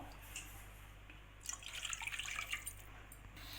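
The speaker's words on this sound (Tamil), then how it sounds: "இதே கப்பில் ரெண்டு கப் அளவு தண்ணி சேர்த்துக்கிறேன்" Faint splashing of two cups of water being poured into a pan for rava kesari, a short trickle in the middle of a quiet stretch.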